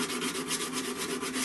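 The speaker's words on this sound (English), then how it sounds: "I'm going to polish in these butt caps while they're still attached to the gun" Steady rhythmic hand rubbing as cast metal butt caps on a flintlock pistol are polished while still attached to the gun, close and continuous with even back-and-forth strokes and no talking.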